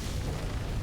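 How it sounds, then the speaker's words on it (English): Rail cannon strike impact in the video game Helldivers, a heavy, sustained low boom with rumbling debris, loud and dense with no talk over it. "The most beautiful sound in the game is that rail cannon strike hitting."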